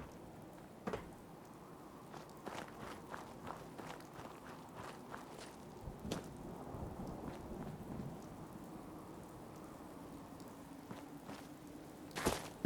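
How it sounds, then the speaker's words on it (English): Rain and thunder in the Fallout 4 wasteland: a steady rain hiss with low, rolling rumbles of distant thunder, broken by scattered footsteps and small sharp clicks, all faint and without speech. "Every time I hear the distant thunder, I think a radstorm's coming"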